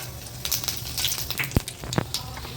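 Hot oil sizzles and crackles with scattered sharp pops, close up, as dry chillies are tempered in a pan for a green peas gravy.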